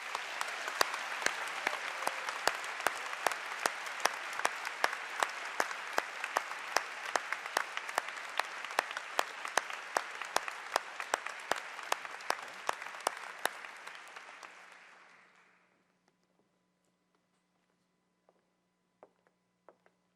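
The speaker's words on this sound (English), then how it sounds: "Let's give them a round of applause." Applause for PhD graduates at a university degree ceremony, a steady roar of clapping from a large crowd in a hall for about fifteen seconds before fading out, followed by near silence with a few stray sounds.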